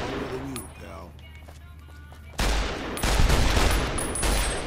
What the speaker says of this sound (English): That was some wild shooting that was leading nowhere.